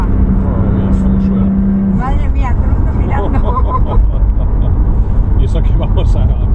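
A BMW M4 on the road surges forward in a single hard burst of acceleration, its engine note building loud and close inside the cabin, while people talk over it.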